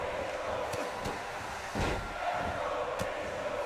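Video game arena crowd in WWE 2K18 chanting and roaring steadily during a Big Show versus Hulk Hogan legends match, a dense wash of voices with a few sharp thuds and slams on top.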